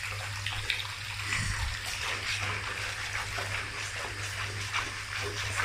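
Water runs into a bathtub to fill a bubble bath, a steady, close rushing splash that continues without pause for several seconds.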